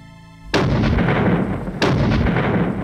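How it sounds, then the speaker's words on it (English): Artillery cannon fire in a battle at Calvi, Corsica, during a bombardment of French positions: two loud, booming blasts about a second and a half apart, each followed by a long rumbling decay, with a quieter tonal backdrop before the first. "As Nelson attacked Calvi, a vigorous artillery duel was underway."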